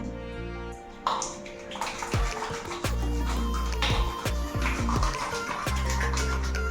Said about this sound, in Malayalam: വെള്ളം ആഡ് ചെയ്യണം